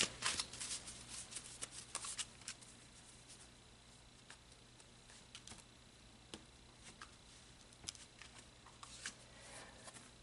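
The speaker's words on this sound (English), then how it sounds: "Okay, so let's pull some more cards." Tarot cards are shuffled and drawn in a quiet room, with soft riffling and scattered light taps and flicks at low volume, no talking.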